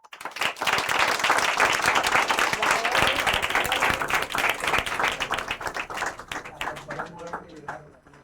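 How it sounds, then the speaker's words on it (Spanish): Warm applause from a church congregation rises quickly into full, sustained clapping and then tapers into scattered claps as a speaking voice carries on beneath it. "denle un aplauso a las personas que están a su lado"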